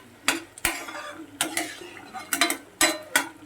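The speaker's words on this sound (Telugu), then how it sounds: "ఇప్పుడు పన్నీర్ వేసేద్దాం" A spoon clanks against a pan as paneer is added and stirred into a spinach masala curry, with several sharp, close metallic scrapes and taps in an irregular rhythm.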